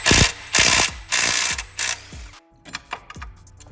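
A ratchet wrench clicks in quick bursts while loosening the slave cylinder bolts on a Subaru STI, giving several loud ratcheting runs followed by slower, sparser clicks and a few metallic taps up close.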